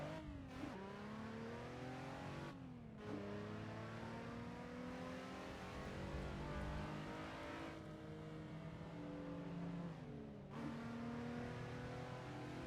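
In the Assetto Corsa driving game, a Nissan 350Z engine revs and climbs through the gears, its loud drone rising in pitch and dropping sharply at each of several shifts before climbing again.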